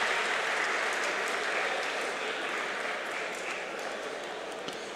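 An audience applauds the fighters at a fight-night event, a dense, sustained roar of clapping that stays loud throughout and fades slightly toward the end.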